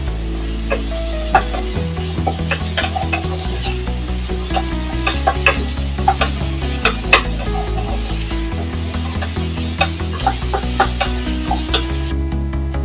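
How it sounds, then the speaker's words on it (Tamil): Onions sautéing in a pan with salt for a Tamil mutton dish, loud steady sizzling broken by frequent scraping and stirring clicks from a spatula, with a constant low hum running underneath and no talk. "பாருங்க, நல்லா வெங்காயம் வதக்கியாச்சு."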